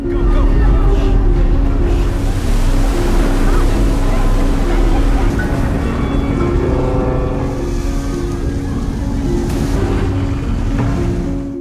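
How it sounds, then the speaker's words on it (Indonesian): A ship approaches across open water, its loud steady engine drone rumbling close amid the wash of waves, with no break for the whole stretch. "kapal itu semakin mendekat dan menjadi lebih dekat ke arah mereka guys"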